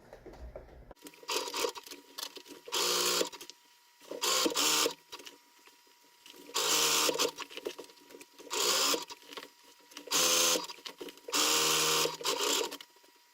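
Sewing machine stitching a single fold along the top of a fabric laundry bag, running in loud close bursts of a few seconds each, separated by short pauses, with no talking.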